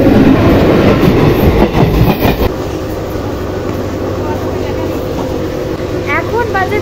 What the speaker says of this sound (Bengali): আর ট্রেন ছেড়ে দিয়েছে, একদম কিন্তু টাইমে ছেড়ে দিয়েছে